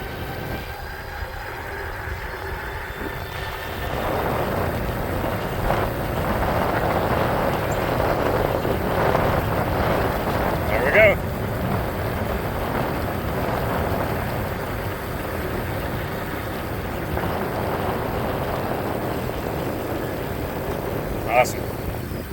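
A 2023 ACTBEST Core eBike riding on throttle only gives a steady motor and rolling hum with wind rush that builds and holds for the whole ride, moderately loud and continuous.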